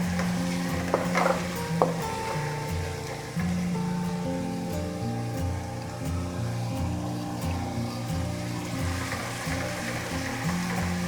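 Onions sauté in a pan for a lauki gosht dish, producing a soft steady sizzle with a few scraping stirs near the start, close and fairly even throughout, no voices.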